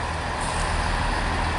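A Chiltern Railways Class 165 diesel unit rumbles steadily through Wembley Stadium station, a loud, continuous broadband engine and wheel roar with no talking.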